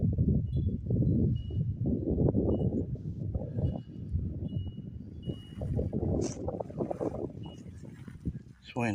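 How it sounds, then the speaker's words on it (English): Wind gusts roar steadily across the microphone in a cemetery, a constant rumbling buffet heard throughout with a person talking over it. "It's windy, guys."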